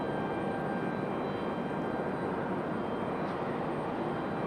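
A JetBlue airliner's jet engines make a steady, broadband roar that holds even throughout, heard at a distance at an airport with no talking.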